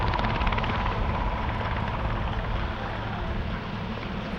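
A large helicopter's rotor thumps and engine roar steadily, loud and continuous, with no voices, at an airshow in Southport.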